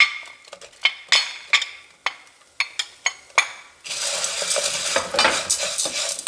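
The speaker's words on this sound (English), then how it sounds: "Now I'm going to add the carrots and onion. I'm going to continue the saute for a couple of minutes." Carrots and onion are sautéed in a pan: a spatula clinks and scrapes sharply against the pan several times, then a steady, close sizzle of frying vegetables takes over.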